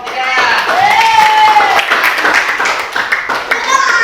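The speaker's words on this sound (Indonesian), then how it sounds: "Beri tepuk tangan untuk kelompok 3." A classroom audience gives a group of students a round of applause, loud close clapping with crowd noise and a voice talking over it.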